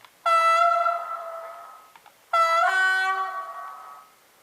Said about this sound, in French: klaxon